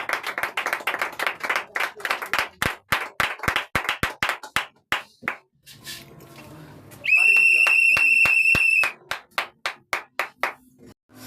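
Church congregation clapping in rhythmic bursts, with loud sustained whistle blasts in the middle and clapping continuing afterward, close and lively.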